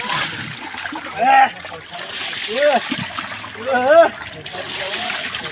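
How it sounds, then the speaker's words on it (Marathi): Buckets of hot water are poured out in repeated bursts of splashing at a natural hot spring pool in Akloli, while several people talk and shout over the sound. "एवढ्या बादल्या घेशील का गरम पाण्याची"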